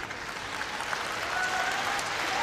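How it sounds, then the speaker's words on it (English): Crowd applause at a women's doubles table tennis semifinal at the 2017 Japan Open, steady clapping from a large audience at moderate volume, heard alone and continuing throughout. "Great response again from the crowd."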